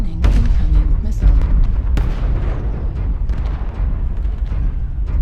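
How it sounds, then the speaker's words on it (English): Incoming missiles in a mech combat video game burst in a rapid series of loud, booming explosions with crackling debris, a dense rumbling barrage running throughout. "Warning, incoming missile."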